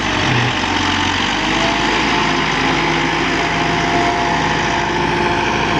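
A 2018 Massey Ferguson 385 tractor engine pulling an 11-tine cultivator, roaring loud and steady at close range with a constant heavy drone and no pauses.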